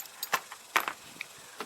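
Allen keys being handled and jangling during a car's back bumper removal, a few sharp metallic clinks scattered across the moment, close and fairly quiet with no talk.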